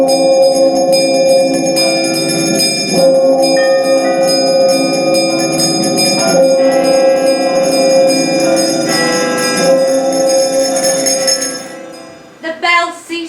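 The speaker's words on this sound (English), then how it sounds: "It rings out loudly! So does every bell in the" Many house bells ring together loudly in an audio drama of A Christmas Carol, a dense sustained clangour of overlapping bright tones that fades out near the end.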